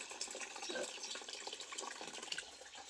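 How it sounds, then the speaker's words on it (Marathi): Water runs and splashes steadily while clothes are washed at home, a close, moderate gushing with small sloshing bursts throughout. "आलो घरी कपडे धुवायला लागली मी आता"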